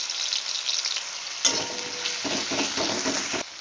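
Onion paste hits hot mustard oil in a wok-style kadai, a steady loud sizzle that flares sharply when the paste drops in, followed by scraping stirs, with no talking.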